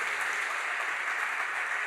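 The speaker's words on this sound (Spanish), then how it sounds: "Denle un aplauso al Señor." A church congregation applauds the Lord during a sermon, a steady wash of many hands clapping evenly throughout, loud and sustained with no voices standing out.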